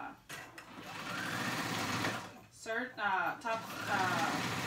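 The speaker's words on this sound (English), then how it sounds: "I'm just top stitching it on my sewing machine" Steady whirring hum of a sewing machine running close by, with a short pause and a voice speaking briefly over the motor.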